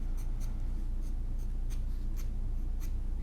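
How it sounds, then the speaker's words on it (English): A pencil flicks across paper while a portrait is drawn, giving a steady rhythm of short, scratchy strokes at close range with no talking. "I'm kind of flicking the pencil"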